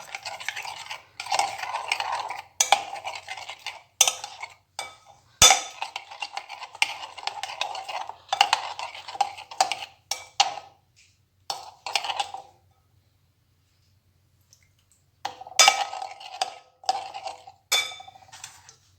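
A spoon stirs chicken marinade with vinegar in a bowl, giving bursts of close clinking and scraping, with a quiet pause before the stirring picks up again.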